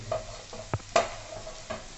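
Prawn roast with a splash of water being stirred in a pan, with a few distinct scraping strokes spaced over a soft, faint sizzle and no voices.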